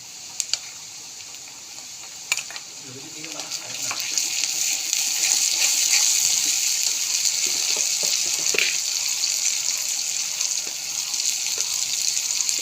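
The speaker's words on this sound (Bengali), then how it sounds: "চিংড়ির মাথা দিয়ে জিরে ভালো করে পেস্ট করে নিয়েছি, তেলে দিয়ে দেবো।" Prawn heads ground with cumin into a paste hit hot oil, a steady loud sizzle and frying hiss that swells and holds, with a few clinks from a utensil early on.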